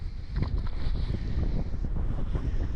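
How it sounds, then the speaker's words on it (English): Gusty wind sweeps across a salmon river in the Outer Hebrides, a steady low buffeting rumble and breathy roar battering the microphone throughout without any talking. "The wind's a bit tricky, to be honest, but what can you do? It's the Outer Hebrides."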